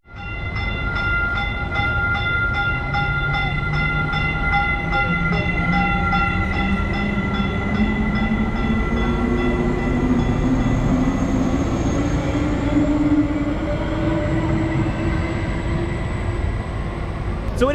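Dallas Silver Line passenger train running steadily near Addison station, a loud continuous rail rumble with a rising drone and sustained horn-like tones throughout, close and unbroken.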